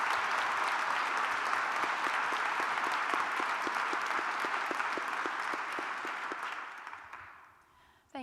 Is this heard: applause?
yes